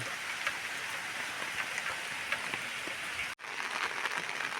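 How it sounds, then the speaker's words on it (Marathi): Steady monsoon rain falls over village farmland among hills, a dense hiss of drops on surfaces, fairly even and continuous with one very brief dropout. "पाऊस लागतो मित्रांनो भरपूर"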